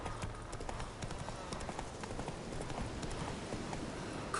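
Roach the horse galloping in The Witcher 3, a fast, continuous rhythmic clatter of hooves at steady moderate loudness with a faint voice underneath.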